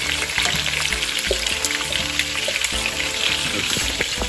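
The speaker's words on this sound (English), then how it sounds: "So now we're gonna pour it into The meat." Liquid being poured into hot cooking meat for a West African dish, with a steady, loud sizzle and frying crackle throughout, a continuous hiss with small pops and no talk.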